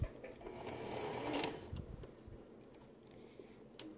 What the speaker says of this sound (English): now all the way at the edge, basting. Since this is a base stitch, we do not have to back stitch